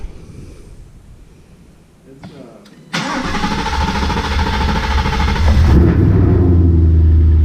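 A 2018 Ford Mustang with a Whipple supercharger cranks briefly, then fires and settles into a loud, steady idle with a deep rumble that grows slightly in the final seconds.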